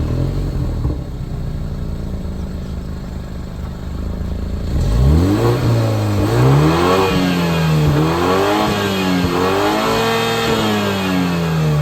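A 2023 BMW X3 xDrive30i idles with a low steady exhaust rumble, then is revved repeatedly, the engine note rising and falling in several close, loud sweeps with no talking.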